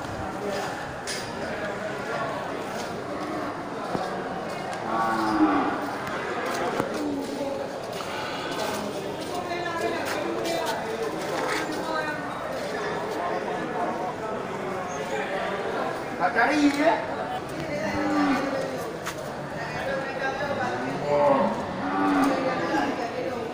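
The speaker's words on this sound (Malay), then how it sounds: "Ya ini satu kerbau albino ya." Several deep moos from an albino male water buffalo, mixed with people talking over a busy livestock-yard background.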